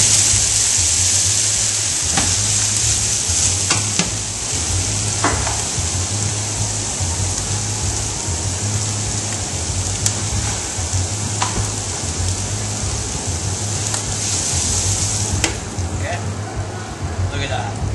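Vaca frita beef sizzling in a pan with lime juice, a steady loud crackling fry running throughout with a low hum beneath and occasional sharper pops.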